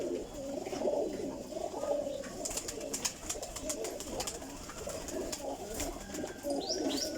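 Released flying pigeons coo and flutter close by in a continuous murmur, with scattered sharper wing claps and chirps over soft outdoor background.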